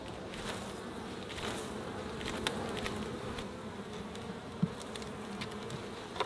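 Honey bees buzz in a steady, dense drone around beehive frames during a honey harvest, a continuous close swarm hum with no talking.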